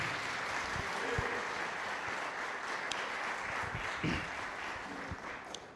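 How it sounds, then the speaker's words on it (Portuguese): A church congregation applauds during a celebration service, sustained dense clapping filling the room for several seconds with a few stronger bursts and no speech over it. "Vocês podem aplaudir a Jesus pela vida do pastor Gilson?"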